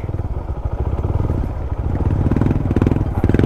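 A Suzuki Raider 150 motorcycle with a Vmax racing exhaust pipe idles and revs nearby with a loud, raspy, rapid-fire exhaust burble that grows slightly stronger toward the end.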